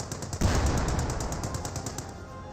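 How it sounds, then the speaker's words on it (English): In a Company of Heroes 2 battle, a 37mm anti-tank gun fires at a Sherman tank: a heavy thump rises over steady, rapid gunfire that rattles on in the background. "AT gun firing against the Sherman tank. It's just a 37mm."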